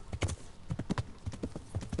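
Horse hooves clip-clop in an uneven, bucking rhythm in the medieval video game Kingdom Come: Deliverance, close and heavy thuds in irregular clusters over a short stretch.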